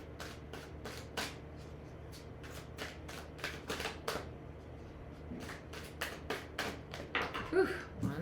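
A deck of cards is shuffled in a quiet room, a run of quick crisp riffles and taps that grows busier and louder toward the end, with no talking.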